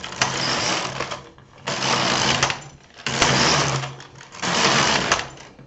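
A knitting machine carriage runs back and forth across rows of a river-stitch pattern with a pattern reader, giving four loud, even whirring passes separated by brief pauses, with no talking.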